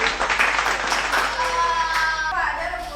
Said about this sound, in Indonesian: tepuk tangan kelompok Devin.